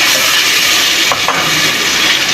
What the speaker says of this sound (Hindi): और अब डालूंगी टमाटर पेस्ट और सारे मसाले अब मैं ऐड करूंगी इसके अंदर।